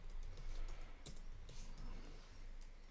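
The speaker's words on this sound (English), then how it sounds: "So I'm just going to type in." A name is typed on a computer keyboard: quick, faint key clicks come in a short irregular burst, a few slightly louder taps among them, over a soft steady background hum.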